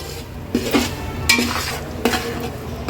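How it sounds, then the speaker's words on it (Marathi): Semolina (rava) roasting in ghee in a pan for sheera, a soft continuous sizzle with a few scraping, clinking strokes of a spoon stirring against the metal, close up and with no talking. "हा रवा आपण तुपावर भाजून घेतोय"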